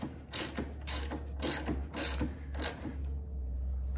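A hand ratchet tightens the bolts on extended brake and shift levers fitted to a 2016 Harley Davidson Street Glide, clicking out five quick close bursts in an even rhythm before falling quiet.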